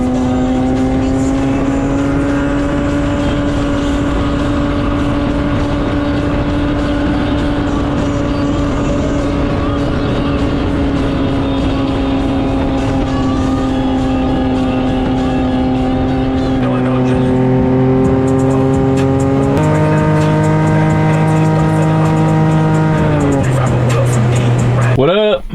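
A Can-Am side-by-side fitted with a windshield drives steadily on a test run, its engine holding a loud, close drone with gear or speed shifts late on, while wind rushes past and a voice talks over it.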